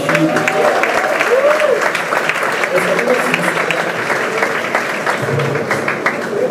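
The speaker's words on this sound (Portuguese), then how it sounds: "salve de palmas para o Rafael Gentil." Steady applause from a crowd, many hands clapping continuously at full strength with cheering voices mixed in.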